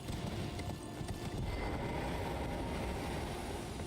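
Horse hooves clip-clop steadily and continuously in Elden Ring, a fast galloping patter under dense game ambience and rumble, moderately loud and unbroken, with no talking.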